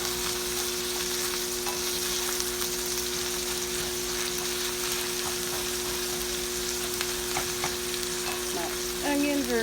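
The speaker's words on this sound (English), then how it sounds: "My onions are getting transparent and browned." Onions fry in a pan for hamburger soup, turning transparent and browned, with a constant dense sizzle and occasional stirring clinks near the end.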